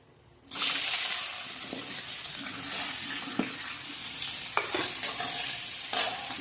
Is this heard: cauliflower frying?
yes